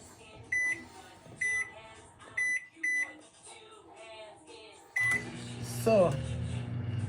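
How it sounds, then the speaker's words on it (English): A microwave oven heating a homemade cough and flu remedy sounds several short electronic beeps, then a steady running hum with a rising whine. A person talks in the background. "I'm going to be putting it into the microwave now for 2 minutes."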